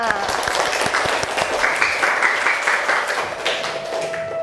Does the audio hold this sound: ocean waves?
no